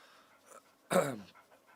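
A dog pants in one short, breathy burst close to the microphone, with quiet room sound before and after.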